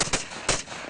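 Gunshots fired by armed police at a rampaging bull, heard as two or three sharp bangs at close range in an outdoor setting, with faint background voices.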